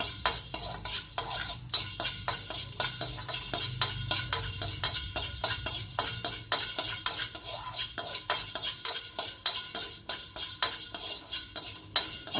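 Coriander seeds dry-roast in a pan for an Udupi bitter gourd gojju, stirred with a fast, even rhythm of sharp scraping strokes against the metal, close and steady throughout with only a faint hiss beneath.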